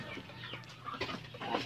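Laying hens in a backyard poultry flock cluck softly and intermittently at moderate distance, over a constant outdoor background.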